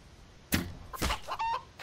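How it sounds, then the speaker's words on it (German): A chicken in the video game The Infected gives two or three short, clear clucks at moderate volume, ending in a brief higher-pitched call. "Ein Huhn."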